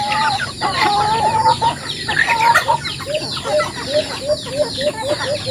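Chickens cluck in a steady run of short, repeated calls, close by, with outdoor background noise and other birds chirping behind.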